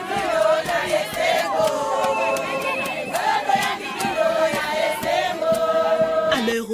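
A large crowd gathers at Bandundu-Ville airport to welcome Prime Minister Judith Suminwa Tuluka, a steady, loud wash of cheering voices and shouts with bursts of chanting, continuous throughout.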